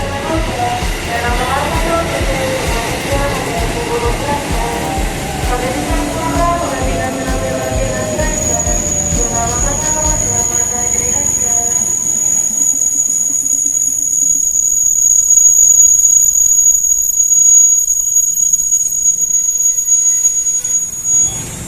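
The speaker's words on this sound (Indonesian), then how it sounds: "Remnya terlalu apa ya, berisik." Commuter train arriving at a station in West Java, loud rumbling and clattering wheels with long descending brake squeals, then a sustained high brake hiss as it slows, a person talking faintly underneath.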